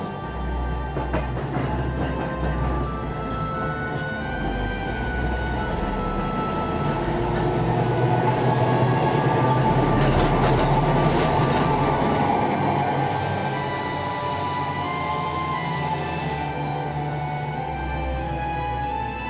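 A 1936 Liverpool tramcar running in Glasgow, a steady rolling rumble of wheels on rails with rising and falling motor whine and some rattling, sustained and fairly close throughout.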